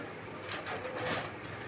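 Fancy pigeons for sale give soft, muffled coos that blend into a steady background hum, faint and brief.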